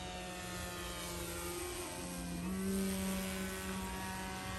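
An 83-inch RQ-7 Shadow RC aircraft flies with a steady, buzzing propeller drone, its pitch shifting slightly midway as the throttle changes, moderately distant and fairly quiet.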